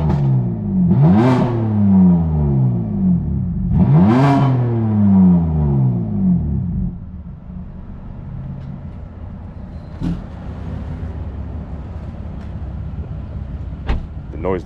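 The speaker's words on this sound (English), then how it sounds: "But let's put in sport." A BMW F82 M4 with a turbo build and stock exhaust revs twice in sport mode, two loud, close rising-and-falling engine blips followed by a steady idle with small clicks.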